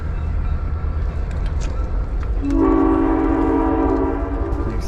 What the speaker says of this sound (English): That's a passenger, like a tourist train.